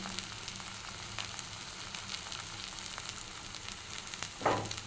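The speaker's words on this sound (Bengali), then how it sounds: "দেখুন কড়াইতে তেল ছেড়ে দিয়েছে, মশলা ভাজা হয়ে গেছে।" Thai cumin leaves and spices crackle softly in hot oil in a wok, a low continuous sizzle with occasional pops and a brief stir near the end.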